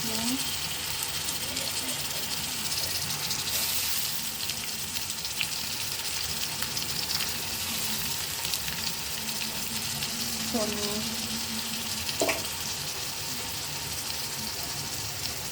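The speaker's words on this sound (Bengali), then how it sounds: "পেঁয়াজটা একটু ভাজি করে নিলাম" Onions fry with spices and garlic paste in a pan while shing fish curry with sweet pumpkin is cooked. A continuous, moderately loud sizzle runs throughout with occasional stirring clinks and brief talking in the background.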